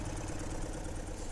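A 1965 BMW R50/2 motorcycle engine idles steadily at close range, a continuous low throbbing rumble with even pulses and no voices over it.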